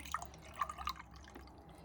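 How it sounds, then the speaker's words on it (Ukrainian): Green detox drink poured from one vessel into a small cup, heard as a few faint, quick liquid drips and splashes close by in a quiet room. "І я наливаю собі, переливаю в таку чашечку"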